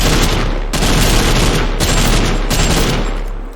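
An assault rifle in the video game TABG fires in loud, close automatic bursts, dense rapid shots with a hard crack, separated by two brief pauses, filling the clip without any speech.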